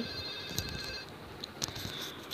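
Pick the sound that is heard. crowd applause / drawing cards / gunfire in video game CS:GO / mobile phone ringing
mobile phone ringing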